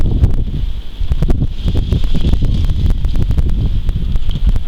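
Steady, strong wind buffets the microphone with a constant low roar, scattered crackles and rustling, and no voices.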